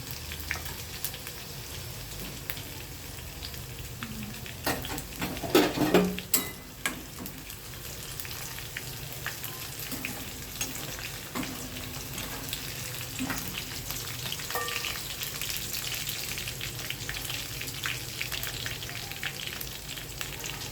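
Garlic frying in a pan for channa masala, a steady close sizzle and crackle of hot oil with a brief burst of louder spattering midway, no voices.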